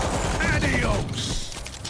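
Gunfire from shooting in the World War Z zombie shooter, a steady burst of rapid shots under game noise and a voice, ending after about a second with quieter clatter.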